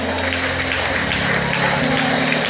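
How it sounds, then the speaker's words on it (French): Applause in a gospel church service, a continuous dense wash of clapping that fills the whole stretch at steady volume, with tonal music and voices running underneath. "Applaudissez plus fort, plus fort"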